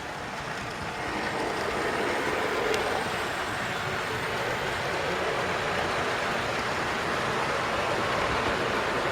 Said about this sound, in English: You must be getting fed up with the same carriages going past all the time.